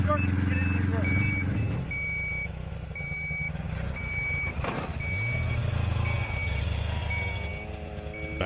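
A truck's reversing alarm beeps steadily and evenly over a rumbling engine, with a voice talking intermittently underneath.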